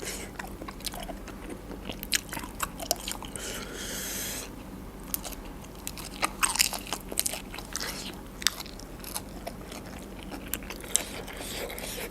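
Shellfish, including large snails, being crunched and chewed close to the mic: irregular crisp bites and cracks in repeated bursts over a low background murmur.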